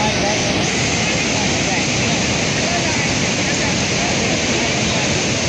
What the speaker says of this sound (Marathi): पूर्ण पाण्याचे फवारे इथपर्यंत येत आहे.